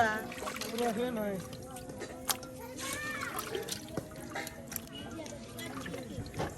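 Cut fish being washed, water trickling and splashing in small irregular bursts, faint beneath ongoing conversation.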